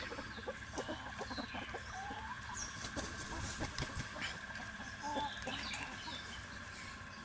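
Tiger hens resting in a cool, shaded garden setting cluck softly and intermittently at moderate distance, with low background noise underneath.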